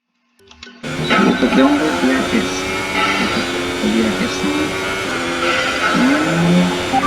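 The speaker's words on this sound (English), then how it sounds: "now we are going to have a hot lap around the Albert Park circuit" Formula 1 car on a hot lap of the Albert Park circuit, its engine starting after a brief silence and then screaming loud and continuous, with rising and falling pitch as it accelerates through gears and corners.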